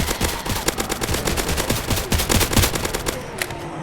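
Rapid video-game machine-gun fire rattles continuously in dense, uneven bursts near a lake, loud and sustained throughout with no talking over it.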